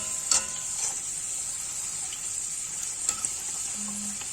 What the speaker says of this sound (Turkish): Arada şu şekilde yağımı üzerine sıçratıyorum. Evet bu da kızarıyor.